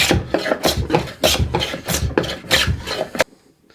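A hand plane shaves ash wood in a series of about ten rhythmic, close rasping strokes, each a short swish, ending in quiet.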